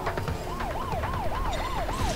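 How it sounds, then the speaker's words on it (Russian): A wailing ambulance siren in the Spider-Man: Web of Shadows video game, arriving as the pitch sweeps up and down in a steady repeating rise and fall, loud over game background noise. "Вот она, скорая приехала."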